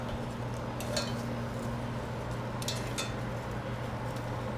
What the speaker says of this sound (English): let's turn our potatoes over